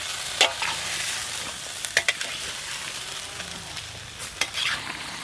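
Chicken with salt and spices is stirred and mixed in a frying pan for chicken kurma. The steady soft sizzle is broken by a few sharp scrapes and clinks of the utensil, with no talking.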